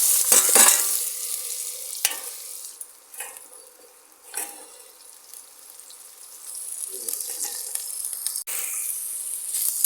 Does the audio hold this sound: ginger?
yes